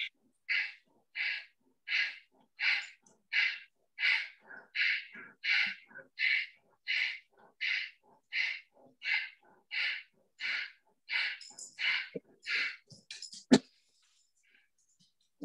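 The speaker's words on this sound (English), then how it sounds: "try and listen to your breathing because you have to take a deep breath to discharge." Deep, forceful breathing during a yoga routine for allergies: about nineteen sharp, evenly spaced breath bursts, each under a second apart, close and clear with no talk, ending in a brief click.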